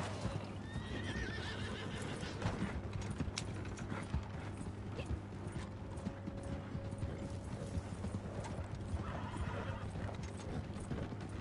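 Horse in Red Dead Redemption 2 whinnying and clip-clopping its hooves, with faint mechanical ratcheting in a steady game soundscape and no talk.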